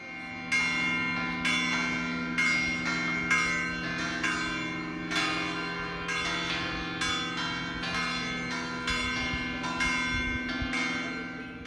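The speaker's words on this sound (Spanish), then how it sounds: "vamos a escuchar las campanas que suenan llamando a los fieles a misa" Large church bells ring repeatedly, calling to Mass at the Padre Pio shrine, in an overlapping, steady pattern, their deep resonant tones sustaining and blending, fairly near and loud.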